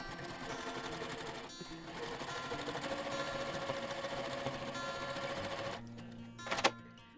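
A sewing machine runs in one steady, fast mechanical whir while stitching red and white quilt strips for a stars-and-stripes table runner, then stops, followed by a few brief handling noises.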